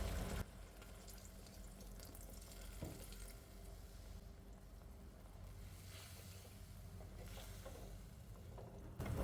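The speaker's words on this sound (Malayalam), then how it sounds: "ഇനി ഇതിലേക്ക് പുളി പൊഴിഞ്ഞത് ഒഴിക്കാം" Tamarind water poured into a pan of raw plantain curry makes a soft, continuous watery rush that is fairly faint, with a slight swell near the end.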